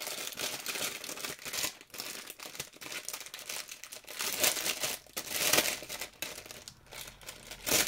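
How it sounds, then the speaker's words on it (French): Up close, a plastic package of craft die cuts is torn open by hand: steady crinkling and ripping of film with louder bursts near the middle and end, sounding alone with no talking. "les die cut, bon, je vais l'ouvrir. Ça s'arrache tout seul."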